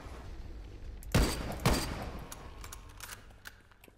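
Assault rifle fire in the zombie shooter game Dead Frontier 2: two loud, sharp shots about half a second apart, followed by fainter distant pops and game ambience.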